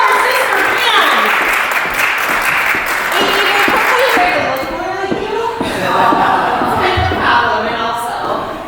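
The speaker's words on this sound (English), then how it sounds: "let's give her a big round of applause" A crowd at a business conference claps and cheers in sustained, dense applause, with voices talking and calling out loudly over it throughout.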